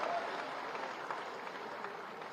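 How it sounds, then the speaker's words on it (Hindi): Faint, distant applause for an IIFA award winner, a steady wash of clapping heard alone for a couple of seconds. "एक जोरदार ताली बजा दीजिए, उनको आईफा पुरस्कार मिला है।"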